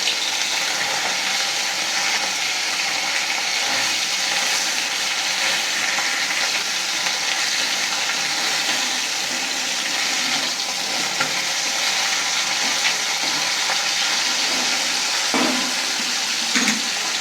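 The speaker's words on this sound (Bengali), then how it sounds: "ভাজা হয়ে গেছে, এবার উল্টে নিচ্ছি।" Bata fish sizzling in hot oil in a pan after being turned over, a steady, fairly loud crackling hiss that carries on for the whole stretch with a few sharper pops near the end.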